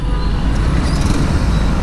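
Continuous rumble of road traffic on a congested mountain road, with cars and heavier vehicles passing close by, loud and steady with no talking over it.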